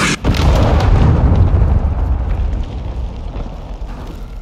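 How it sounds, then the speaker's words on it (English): A cruise missile detonating in the video game Call of Duty Modern Warfare 2, a loud heavy boom with deep rumbling that starts sharply and slowly fades over several seconds, with no voices. "friendly cruise missile deployed"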